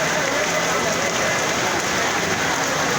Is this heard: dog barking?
no